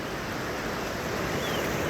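The Orange River running high near a small bridge at Kanoneiland, a steady broadband rush of fast water with some wind noise, continuous and fairly loud with no voices.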